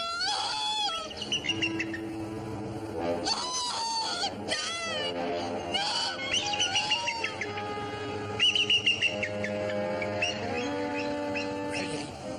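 Bird calls ring out as bright chirps and whistling tweets in varied bursts, fairly close and clear, with a few rough lower cries mixed in.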